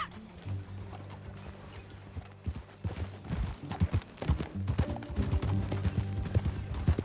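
Horse hooves clip-clop at a steady gallop in Red Dead Redemption 2, a dense run of close, loud hoofbeats building over a low game soundtrack drone, with a brief whinny-like call near the start.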